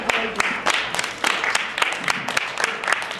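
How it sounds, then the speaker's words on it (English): Audience applause for two classes at a poetry-for-peace event, many hands clapping densely and fairly loudly in a continuous, uneven burst. "Now, the big applause for these two wonderful classes"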